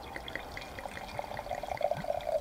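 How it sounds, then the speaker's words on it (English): Knights Valley Cabernet wine poured from a bottle into a glass, a short gurgling trickle that grows into louder glugging pulses toward the end, close and alone. "I like that sound of the glug, you know, when it just goes boom, boom, boom, like that."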